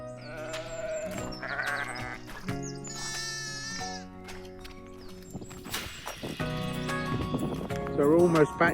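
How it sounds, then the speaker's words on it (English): Sheep bleat in open hill countryside, several wavering calls rising over steady outdoor noise, fairly close, with people talking throughout. "These have got to be the flappiest sheep I've ever seen."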